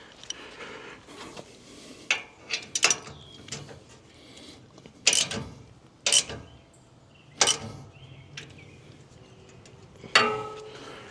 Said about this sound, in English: All right, so I've got my ratchet, got my 5/8 socket.